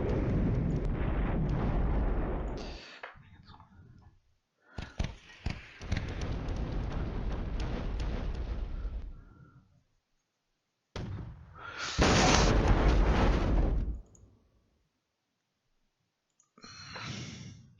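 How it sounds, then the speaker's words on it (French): Four AMX tanks open fire in the Cold War wargame Flashpoint Campaigns, long roaring bursts of cannon and explosion noise separated by silent gaps, loud and close. "les 4 AMX là qui font feu"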